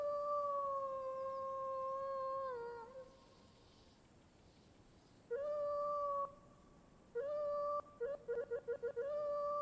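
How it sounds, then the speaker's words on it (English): Wolf howl sound effect: long sustained tonal howls, one drawn out for nearly three seconds, a pause, then a second howl and a rapid series of short broken yips, clear and alone. "Wolf Howl."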